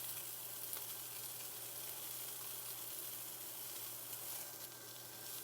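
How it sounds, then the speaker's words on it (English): Flat iron steak searing in a stainless pan with steady, loud sizzling and crackling, constant throughout with no talking. "We want a good sear on that steak."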